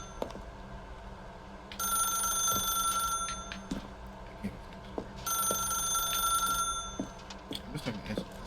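A telephone ringing in the video game The Stanley Parable Ultra Deluxe, two electronic bell-like rings about three seconds apart, each lasting over a second, fairly faint over a low background hum.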